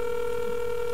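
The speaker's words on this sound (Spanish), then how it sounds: "Ahí suena el teléfono." On an outgoing call during a Venezuelan-Argentine radio program, the telephone line gives a steady electronic ringback tone, constant and fairly loud, with no voices over it.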